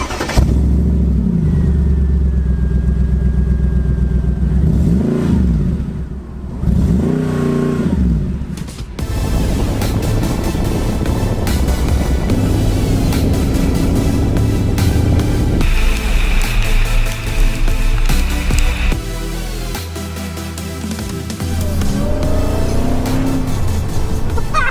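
A Mercedes-Benz SLR fires up nearby and its engine is revved hard several times, rising and falling loudly, then settles into a rough running note between bursts.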